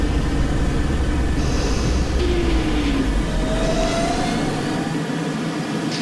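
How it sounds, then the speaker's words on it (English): Subway train rumbling steadily in an OpenBVE simulation of a Brooklyn-bound New York Q Express, a continuous low drone of motors and wheels with a couple of rising whines. "This is a Brooklyn-bound Q Express train."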